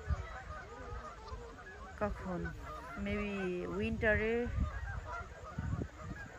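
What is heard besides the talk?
snow geese honking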